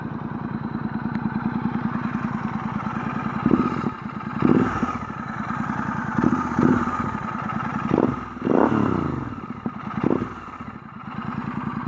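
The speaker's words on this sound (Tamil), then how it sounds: "ஒரு inline 2 சிலிண்டரோட sound with red roster in exhauster" The inline two-cylinder exhaust of a Royal Enfield Continental GT 650 fitted with a Red Rooster exhaust idles close up, then is blipped through several sharp throttle revs that rise and fall back to a steady, thumping idle.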